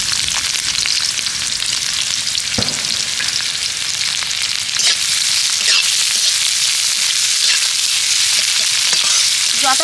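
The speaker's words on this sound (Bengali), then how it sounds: "পেঁয়াজটা হালকা করে ভেজে নিয়েছি" Chopped onion and black cumin sizzle steadily in hot oil for the whole stretch, a dense, even hiss with a few faint spoon taps and no voices.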